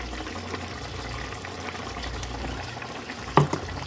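Bengali potato and poppy seed curry simmering in a pot, a low continuous bubbling and liquid burble, fairly quiet, with a brief clink near the end.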